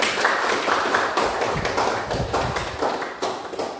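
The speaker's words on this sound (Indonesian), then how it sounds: "Oke, berikan aplaus dulu." A classroom of students applauds a group's answer with a dense, continuous patter of hand claps that fills the room at a steady, fairly loud level throughout.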